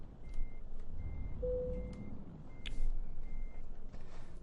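Reversing beeps from an articulated truck backing into a parking spot in Euro Truck Simulator 2, a steady run of evenly spaced high beeps over a low engine rumble, with a brief hiss partway through.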